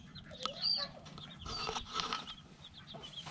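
Several chickens cluck and murmur in short bursts, fairly close, with a busy low background throughout.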